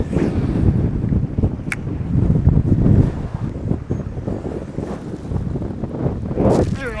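Strong wind gusts buffet the microphone on a bass-fishing boat out on open water, a continuous loud rumbling roar with faint lapping waves beneath.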